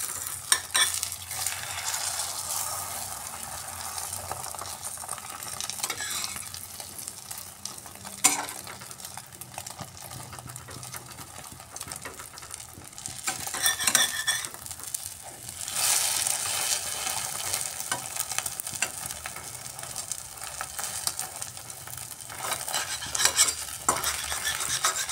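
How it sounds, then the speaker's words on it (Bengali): Egg omelette frying and being stirred in a pan at home, with a steady close sizzle and repeated scraping and stirring strokes running through the whole stretch, no voices. "এবার ডিমটাকে আমি অমলেট বানিয়ে নিচ্ছি।"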